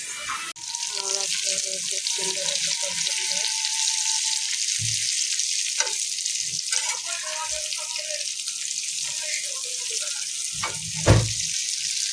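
Stuffed okra (bhindi) frying in a pan, a loud steady sizzle running throughout with occasional stirring clinks and a brief splash of water near the end.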